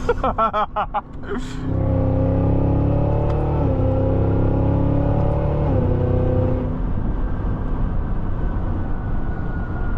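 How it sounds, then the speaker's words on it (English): A 2026 Cadillac Escalade-V's supercharged engine surges hard under acceleration, a loud sustained roar with rising pitch and supercharger whine that holds for several seconds before easing off into road noise. "That supercharger sound is insane too."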